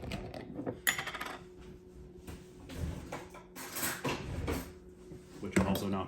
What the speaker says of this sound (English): Sorry, I had to grab a spoon.